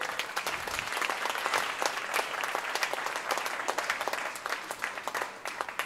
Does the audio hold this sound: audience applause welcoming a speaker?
yes